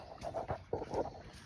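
Dogs in a yard give short whimpering and panting sounds in a few close bursts, fairly soft, with no talk.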